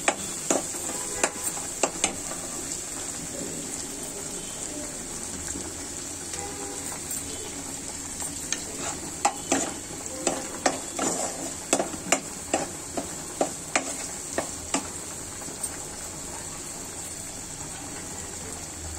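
Dried loitta fish with whole onion and garlic stirred while frying, a low sizzle under irregular scrapes and sharp knocks of a spoon against the pot, growing busier midway.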